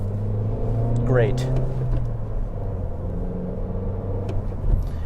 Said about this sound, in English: just doing regular blips of the throttle is